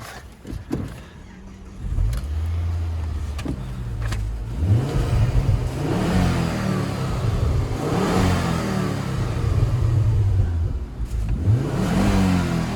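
A Ford Focus 2.5 ST-3 three-door with a replaced cambelt cranks and starts up close, then settles into a loud idle broken by several rising revs that sweep up and fall back.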